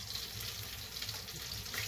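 Noodles frying in melted butter in a pan on a stovetop over medium heat, spitting and splattering as a steady, close hiss with small crackles throughout.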